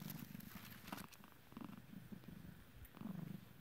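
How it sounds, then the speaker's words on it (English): Soft, steady purring close up, a low rhythmic rumble with a few faint rustles. "You hear her soft little purr?"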